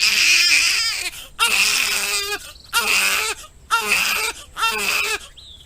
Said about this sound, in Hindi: फिर कुछ ही देर में कमरे से एक बच्चे के रोने की आवाज आती है।